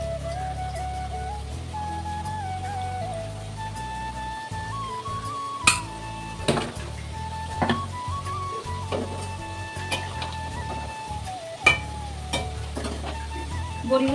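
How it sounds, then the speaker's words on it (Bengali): Spice paste for a fish curry sautés in a pan, a soft, steady sizzle close by with intermittent scraping clinks from stirring and a faint tonal whine running underneath. "ওই জন্য মশলাটাকে কষাতে দিয়েছি"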